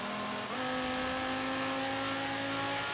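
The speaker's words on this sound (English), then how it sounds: "it's still a Lamborghini, so it's not slow at all" A lightly modded Lamborghini engine drones steadily while driving, its pitch stepping up once early and then holding a smooth, continuous tone at moderate loudness.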